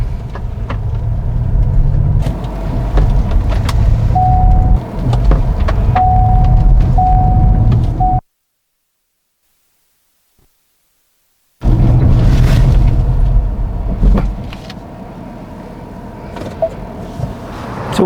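A 2021 Ford Mustang Mach-E Select electric car accelerating in its unbridled sports mode gives a steady loud road and wind roar with a faint whine, broken by a few seconds of total silence before the roar resumes.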